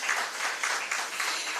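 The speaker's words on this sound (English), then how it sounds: "Another round of applause, ladies and gentlemen." A conference audience at a women in financial markets event gives a round of applause, a short burst of dense, even clapping from a sizeable crowd.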